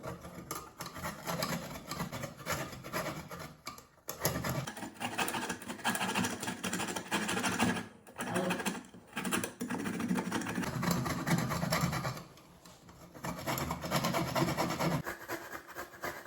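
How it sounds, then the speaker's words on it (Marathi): Coconut grated by hand at home while preparing modak, a steady rough rasping scrape that runs nearly without pause, with a few short breaks in the strokes. "तर नारळ आणला होता इकडून मार्केटमधून तर त्याला खिसायचं आहे आपल्याला"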